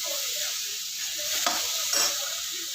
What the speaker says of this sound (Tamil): வதங்கட்டும்.